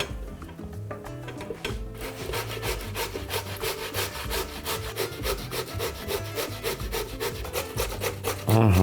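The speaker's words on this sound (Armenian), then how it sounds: "քերում ենք մեծ անցքերով" Beetroot scraped against a coarse grater in a home kitchen, producing a fast, regular rasping rhythm of close strokes that runs continuously, with a louder bump at the end.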